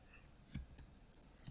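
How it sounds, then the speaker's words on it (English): A few quick computer keyboard keystrokes click faintly and irregularly while a command is entered, with quiet pauses between presses and no talking. "So I will type one command"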